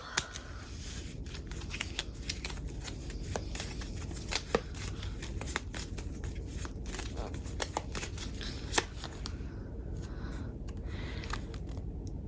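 Cards are shuffled continuously with soft rustling and occasional sharp snaps and taps over a low background hum, steady and close.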